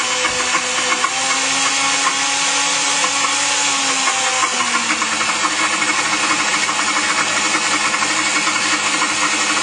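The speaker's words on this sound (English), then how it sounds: "I had to reset the speed on this particular blender for more of a lower speed so that it starts chopping the seeds more effectively" Blender running at lower speed, chopping seeds into nut butter; a loud, continuous motor whine with grinding texture and a slight pitch shift early on, steady and close for the whole stretch.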